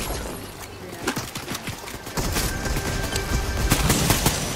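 Rapid gunfire in Fortnite, a steady crackle of close and distant shots and bursts running throughout, growing denser in the second half.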